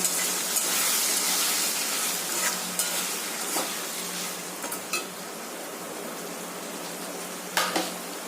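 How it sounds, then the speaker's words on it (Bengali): Chilli paneer stirred in a pan, a soft steady sizzle with scattered scraping clicks of the spatula against the pan, fairly quiet. "দিয়ে ভালো করে একটু নেড়ে নেব"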